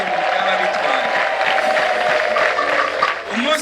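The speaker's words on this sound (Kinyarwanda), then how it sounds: "yongera amashyi muyivugiriza impundu" Church congregation applauding with ululation at a service: dense, continuous clapping and high trilling voices, loud and close, lasting the whole stretch.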